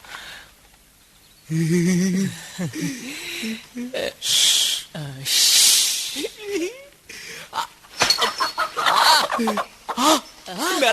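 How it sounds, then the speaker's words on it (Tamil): An animated cartoon chicken clucks and squawks in bursts between voices, with brief silences and rustling, close and fairly loud over several seconds. "முதல்ல இந்த கோழியை பிடிக்கலாம்"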